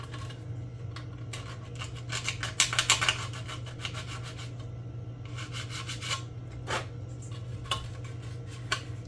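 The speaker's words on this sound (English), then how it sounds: "I'm going to take the sanding stick here, and we're just going to take care of some of this flash." A sanding stick rasps flash off small plastic parts of a 1/535 scale USS Iowa model kit, in short dry strokes, some in quick bursts, close by over a steady low hum.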